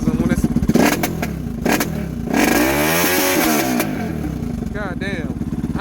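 A Lifan KP Mini 300 motorcycle with a ZS175FMN four-valve engine, being broken in, revs repeatedly up to a 6,000 rpm CDI limiter. Loud, close engine roars rise and fall in several bursts, with a person speaking over parts of it.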